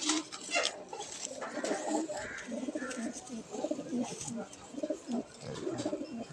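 Laldoma pigeons, red-tailed mukhochotial males, cooing in soft repeated low coos amid a busy pigeon market, with people talking over them throughout.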